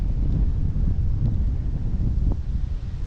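Blustery wind buffets the microphone in steady low rumbling gusts, close and loud, with faint rustling underneath.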